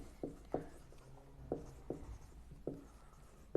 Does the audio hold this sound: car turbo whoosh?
no